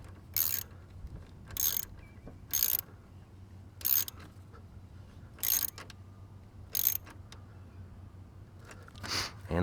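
A ratchet clicks in short bursts while tightening the negative battery terminal on a 2011 Cadillac SRX: about seven quick, close, crisp ratcheting runs separated by brief pauses over a low steady hum.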